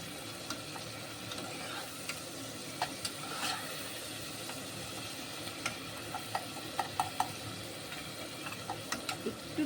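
Chopped onions, two tomatoes and green chillies cook with a little salt in mustard oil, giving a steady soft sizzle with scattered sharp crackles and clicks that grow more frequent toward the end.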